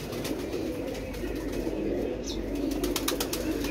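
Pigeons coo in low, continuous rumbling tones, close and steady, with a faint flutter and light clicks over a rainy backdrop.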